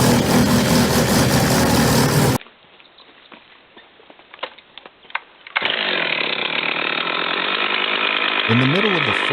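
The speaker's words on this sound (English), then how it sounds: "The saw roared loudly, sawdust flew everywhere as the tree began to shake and slowly fall" A loud chainsaw cuts into the trunk of a giant tree in a forest, roaring steadily at close range. The engine suddenly drops to near silence with faint clicks and taps, then the saw roars back in.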